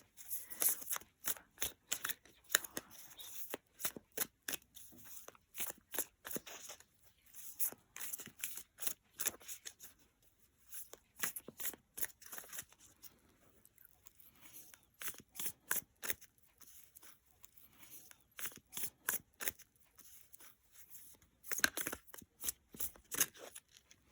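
A deck of playing cards shuffled again and again, the crisp rapid riffles and snaps coming in quick bursts with brief pauses, close and quiet in a calm setting.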